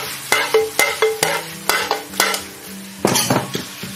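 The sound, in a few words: stir-frying lamb with scallions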